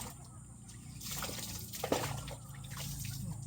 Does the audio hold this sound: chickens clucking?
no